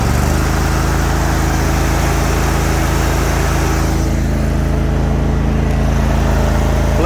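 A 52-inch Hustler Raptor zero turn riding lawn mower engine runs loud and close with a steady droning roar, its pitch easing slightly partway through.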